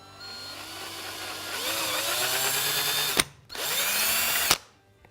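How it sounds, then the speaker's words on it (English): A power drill whines steadily as it bores a hole for a Picatinny rail install, pitch shifting under load, then stops briefly and runs again before cutting off. "I'm going to drill this hole"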